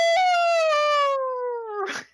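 A person imitates a hound dog howl with one long, loud, sustained voiced note that slowly falls in pitch, ending in a brief breathy trail-off, alone without other talk.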